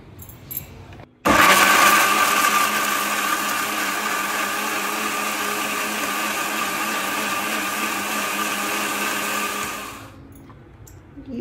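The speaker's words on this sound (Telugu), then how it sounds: "ఇప్పుడు ఆనియన్స్ అండ్ టమాటోస్ మనం ఫ్రై చేసుకుంది గ్రైండ్ చేసుకుందాం" A mixer grinder grinds fried onions and tomatoes: a loud, steady whirring roar starts abruptly, holds for about nine seconds, then winds down, with no voices over it.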